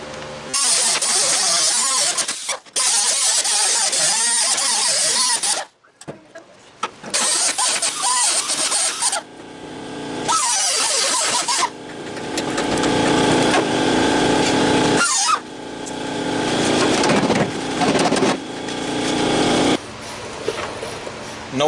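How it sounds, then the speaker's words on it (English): Pneumatic air chisel cutting and breaking up the sheet-metal floor of a 1965 Ford F100 truck, loud harsh rattling bursts that start and stop repeatedly with short pauses, no talk. "I'll take my air chisel and get those up right there."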